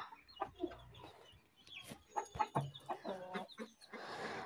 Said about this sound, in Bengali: মুরগিও খাচ্ছিল, মুরগির বাচ্চাগুলোও খাচ্ছিল।